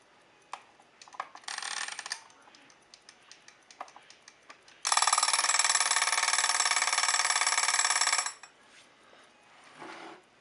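Timer on an Agat wristwatch from the Zlatoust watch factory, tested on its own: a few short mechanical clicks and a brief burst, then a loud steady electronic buzz that lasts about three and a half seconds before it stops.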